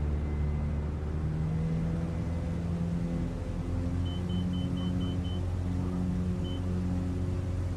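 A Super Decathlon light plane in Microsoft Flight Simulator takes off, its engine giving a loud, steady rumbling drone that holds without a break.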